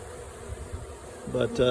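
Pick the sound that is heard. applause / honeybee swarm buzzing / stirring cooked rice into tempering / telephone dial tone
honeybee swarm buzzing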